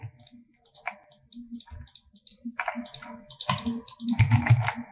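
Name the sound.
computer mouse clicking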